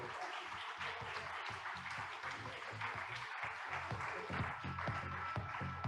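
Steady audience applause welcoming a keynote speaker onto the stage, dense continuous clapping heard from within the crowd, fairly faint overall.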